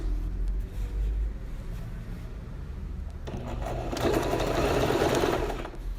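A sewing machine stitches a child's dress, starting with a faint low rumble before the motor runs loudly and continuously in a steady buzzing whir for the last few seconds.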